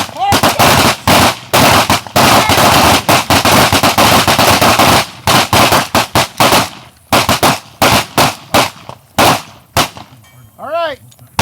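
Handguns fire at an outdoor shooting range in a ten-round drill: loud, sharp reports at close range, many overlapping shots from several shooters in rapid, uneven bursts, then a few spaced final shots.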